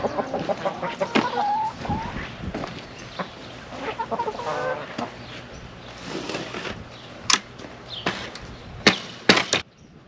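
A rooster clucks nearby in short, irregular bursts, mixed with a few sharp knocks and clatters against quiet background noise.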